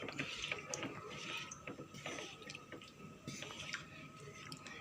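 Cireng dough stirred in a pan, with continuous wet scraping and clicking as the spoon drags through the thickening mixture, close and steady over background noise.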